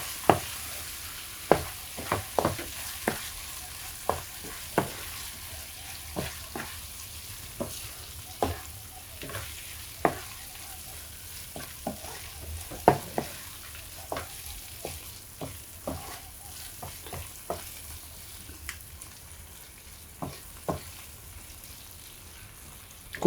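Three beaten eggs stirred in a pan for egg bhurji gravy on a low flame, with a soft continuous sizzle and sharp, irregular spatula taps against the pan, close and steady, with no talking.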